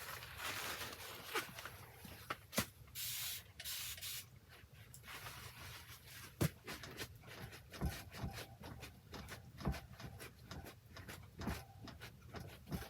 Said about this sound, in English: Now I'm going to spray that and get most of it off and just leave a hint of it.